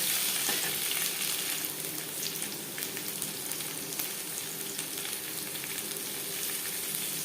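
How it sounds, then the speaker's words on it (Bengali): Potatoes fry in hot mustard oil with a continuous, crisp sizzle close by, joined by light stirring. No voices. "আলু হালকা করে ভেজে নেব।"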